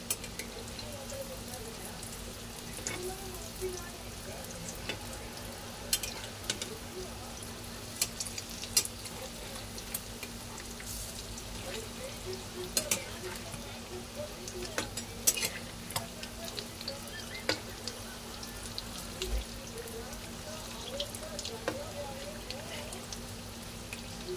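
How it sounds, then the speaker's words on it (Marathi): An egg omelette fries in a pan until golden, giving a steady, soft sizzle throughout with scattered small ticks and pops, heard fairly close and alone. "छान असं गोल्डन कलर येईपर्यंत आपण हे तळून घ्यायचे चांगलं फ्राय।"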